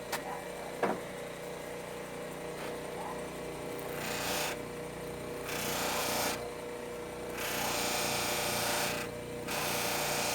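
A pipe buffed on a Beal wood buffing system motor with Tripoli and White Diamond compounds, a steady close motor whir with a rubbing rasp that swells in several sustained passes as the pipe is pressed to the wheel.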